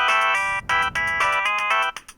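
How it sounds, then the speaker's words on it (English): A phone ringtone plays alone as a bright, repeating electronic melody in short bursts with brief gaps, loud and close, ending with a few softer notes. "I always get that feeling like I'm being woken up whenever I hear the ringtone."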